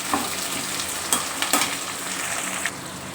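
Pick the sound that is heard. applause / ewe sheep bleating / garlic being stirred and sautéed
garlic being stirred and sautéed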